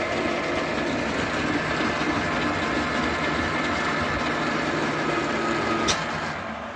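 Power feed on a 6R10 milling machine drives the table downward, a steady mechanical rumble and whir with gear clatter, ending in a brief sharp click as the limit trips and the drive starts to wind down.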